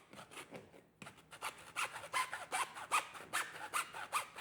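Hacksaw cutting plastic waste pipe, a series of close rasping strokes with a steady back-and-forth rhythm, quiet at first and growing louder.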